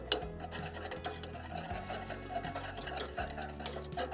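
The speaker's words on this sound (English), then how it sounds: "And I mix this all together." Béchamel sauce with a pinch of nutmeg being stirred in a pot while cooking at a camp from a truck, a steady scraping and swishing of the spoon against the pot that runs without pause, close and moderately loud, with no talk.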